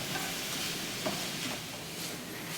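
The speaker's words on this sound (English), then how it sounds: "So lots of good stuff in here that we're sauteing up." Jalapeño and garlic sauté in a pan, putting out a steady, even sizzle that fills the clip at moderate volume, with no voices.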